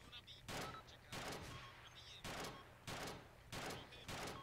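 Machine gun fire in the Arma 2 war game, heard as five or six loud, broad bursts spaced roughly evenly over a steady low rumble, with no talk over them.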